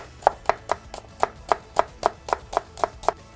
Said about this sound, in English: we want some onion, and remember the onion is going to be raw in this, and it wants to be really nice and finely cut